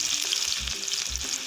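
Finely chopped onions sautéing in oil for a chicken liver fry: a brief, close sizzle with a couple of quick stirring scrapes, no speech.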